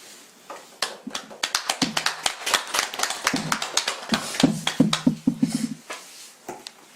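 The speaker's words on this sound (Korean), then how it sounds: "박수." People clap together at a Buddhist ordination ceremony, starting with scattered claps that build into a fuller round of hand claps before trailing off, fairly close and clear.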